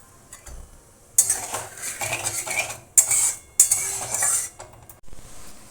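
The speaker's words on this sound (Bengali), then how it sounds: "কড়াই দিয়ে দিচ্ছি 1 কাপ চিনি আর হাফ কাপ জল" Sugar, water and cardamom go into a kadai for a sweet syrup, heard as clattering metal spoon and pan knocks with bright scraping bursts and a faint sizzle, no talking.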